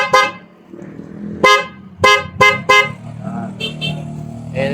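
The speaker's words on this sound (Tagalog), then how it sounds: "Tunog naman yung loud horn na yun." Loud, close aftermarket car horn wired through a plug-and-play harness alongside the stock horn honks in a series of short blasts, some in quick succession, over a low idling engine hum.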